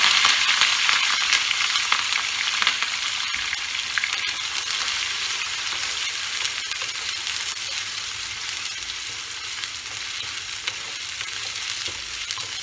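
Bitter gourd deep-frying in a generous amount of oil, a steady dense sizzle and crackle that holds loud and close throughout with no talking.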